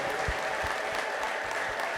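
Church congregation clapping during a worship service, a steady, dense wash of applause with a few sharper low thumps, fairly distant and continuous throughout.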